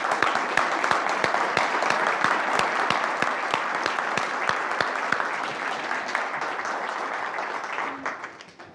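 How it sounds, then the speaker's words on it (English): Audience applause at a digital expo after a panel, a dense steady wash of many hands clapping at close range for about eight seconds, then tapering off quickly near the end. "So give them a round of applause."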